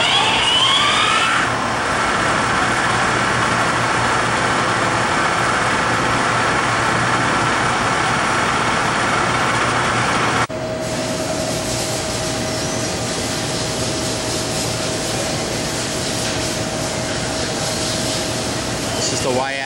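An Okuma MCR-B II double-column CNC machining center runs its spindle at a top speed of 4,000 RPM, giving a loud, steady broadband whir. Partway through, the pitch shifts and a faint steady tone joins the hum.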